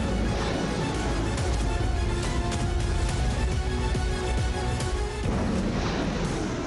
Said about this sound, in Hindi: आसमान में जैसे ही यूक्रेनी एंटी एयरक्राफ्ट मिसाइल ने रूस के Su-25 लड़ाकू विमान को हिट किया, जोरदार धमाके के साथ आग का गुबार उठता दिखाई दिया